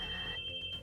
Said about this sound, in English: A phone rings suddenly.